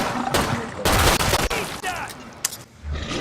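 Rapid gunfire in the video game Killing Floor 2, dense bursts of loud cracking shots in quick succession with short gaps, close and harsh, with game effects mixed in.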